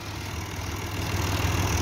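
A tractor engine, an 85-horsepower model, revs steadily with a low, rumbling drone as it strains to pull itself free from being stuck, holding a constant loud hum throughout without any voices.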